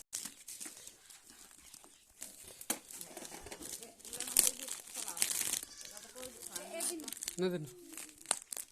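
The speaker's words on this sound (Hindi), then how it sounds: "चलो चीर फाड़ करो जल्दी से, जल्दी जल्दी पूरा चीर फाड़ कर दो" Cardboard and plastic packaging being ripped and crinkled while opening the box of a Bharat King 200-watt MOSFET amplifier, close rustling and tearing in irregular bursts, with people talking over it.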